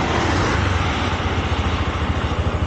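A 2024 Honda Shine 125 motorcycle's 125cc engine running just after being started: a loud, close, steady low putter with a regular pulsing rhythm, and no talking.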